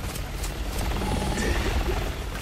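A helicopter in the Resident Evil 6 video game drones with a dense, low rumbling rotor wash, steady and fairly loud throughout with no speech over it.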